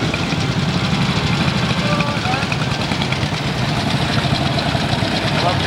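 Motorbike engines rumble and idle steadily around a steam show arena with a continuous low, gritty drone, while voices talk faintly underneath.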